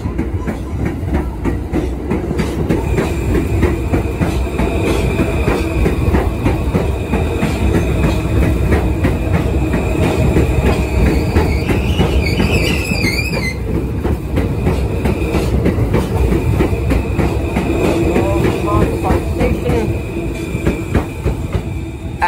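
An R160A subway train on the F line departs Smith and 9 Streets station toward Coney Island, a loud, steady rumble of rolling wheels and clattering cars lasting throughout, with a brief high squeal midway.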